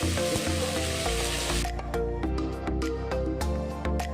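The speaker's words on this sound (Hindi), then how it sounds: "जब तेल अच्छी तरह गर्म हो जाए तब इसमें भुना हुआ तेज पत्ता, कुछ इलायची डालेंगे और इसके बाद पिसी हुई प्याज भी इसके अंदर डाल देंगे।" Ground onion tipped into hot mustard oil with roasted bay leaf and cardamom for chicken chatkila, a loud, steady frying sizzle that flares and then settles into a continuous crackle with occasional stirring knocks.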